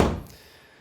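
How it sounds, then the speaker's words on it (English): A door shuts with a single dull thunk close by, its short low thud fading quickly into silence. "I gotta close this door real quick"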